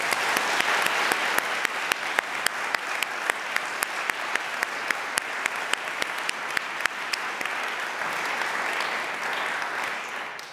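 Dense, steady applause from an audience at the Deutscher Sachbuchpreis 2023 award ceremony, with many sharp claps running continuously at an even level throughout.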